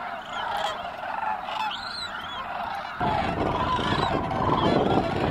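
Sandhill cranes at Bosque del Apache National Wildlife Refuge call back and forth in the early morning, loud bugling notes rising over a dense, continuous chorus of distant flock calls.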